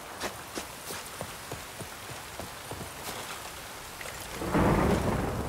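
Rain and thunder in The Witcher 3, steady rainfall hissing over the ground while rolling thunder rumbles low beneath it and swells into a louder crack near the end.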